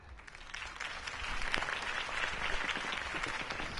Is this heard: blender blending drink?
no